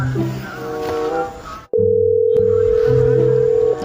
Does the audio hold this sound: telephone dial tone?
yes